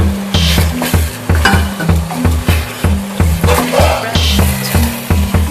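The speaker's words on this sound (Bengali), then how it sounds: "এবার আমি অল্প সামান্য জল অ্যাড করে দিলাম।" Chicken masala sizzles loudly in a pan as water is added. Close, dense hissing and crackling runs with a regular pulsing rhythm throughout, and no voices.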